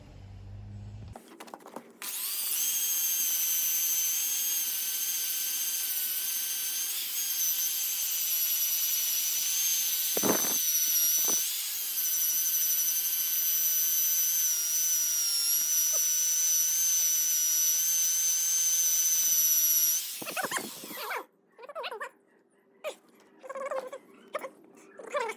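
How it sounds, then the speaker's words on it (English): A big angle grinder fitted with a wire wheel runs steadily for about twenty seconds on a large anvil, a loud, high continuous whine with brief dips, then stops and leaves faint clicks and handling noises. "I've started to use the big angle grinders when I wire wheel stuff"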